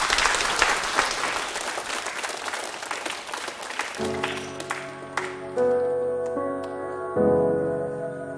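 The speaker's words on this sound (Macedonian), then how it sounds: "Аплауз за Софија." A school audience at a Gotse Delchev primary school event applauds a young soloist with dense, loud clapping for about four seconds, which thins out as sustained piano chords begin underneath.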